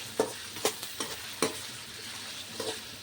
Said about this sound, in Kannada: ಈಗ ಎಣ್ಣೆ ನೋಡ್ರಿ ಈಗ ಗರಮ್ ಆಗ್ಯದ ಇದ್ರಾಗ ಹಾಕೋತೀನಿ ನೋಡ್ರಿ ಇದು ಫ್ರೈ ಆಗತ್ತೆ